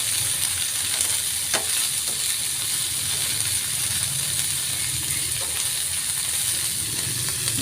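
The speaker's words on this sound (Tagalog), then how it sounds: "Halo-halo po, gisa-gisa." String beans and squash are stirred and sautéed in a pan for coconut-milk vegetables with shrimp, producing a continuous close sizzle with occasional scraping stir sounds and no speech.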